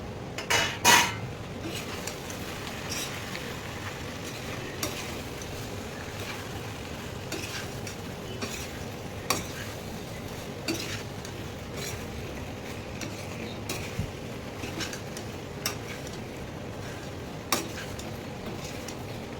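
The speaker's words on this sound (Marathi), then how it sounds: "त्यानंतर आता मी बॉईल पास्ता ऍड करणार आहे आणि त्या मसाल्यात चांगलं असं मिक्स करणार आहे" Boiled penne pasta being stirred into masala in a pan, a long stretch of steady scraping and occasional spoon knocks on metal over a faint sizzle, close by and without speech.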